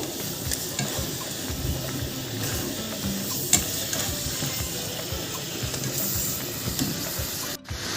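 A spoon stirring grated coconut into a thick jaggery-style syrup in a pan, with scraping, soft sizzling and wet bubbling, close and steady, with a brief dropout near the end.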